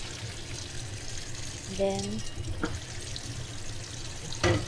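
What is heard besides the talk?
water poured over drained pasta in the sink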